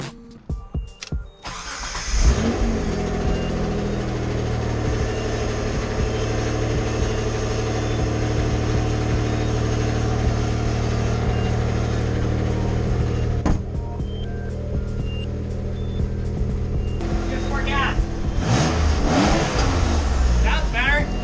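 A car engine fitted with a new exhaust cranks and catches, then idles with a deep, steady rumble and a few revs, loud and close, while people talk over it.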